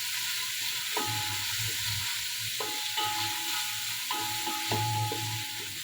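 Vegetables and onion frying in a pot for khichuri, a steady soft sizzle with repeated scraping and stirring strokes of a spatula against the metal, close and fairly quiet, no talking.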